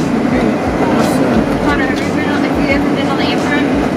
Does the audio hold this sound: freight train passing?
yes